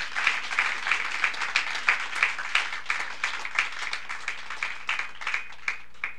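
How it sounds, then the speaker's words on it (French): Church congregation applauding for the Lord, a rhythmic wash of many hands clapping in regular pulses, moderately loud and sustained, with no cheering voices standing out. "Est-ce que quelqu'un peut acclamer pour le Seigneur?"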